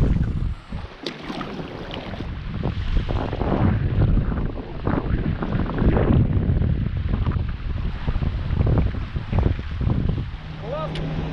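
Wind gusts across a reservoir as a small boat heads back, a loud, rough rumble of wind buffeting the microphone throughout, with splashing water beneath.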